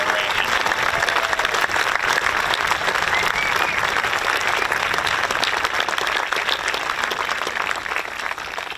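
Sustained crowd applause for the San Francisco Board of Supervisors during a mayor's address at City Hall, a dense steady roar of many hands clapping at full strength for nearly nine seconds, easing only slightly at the end.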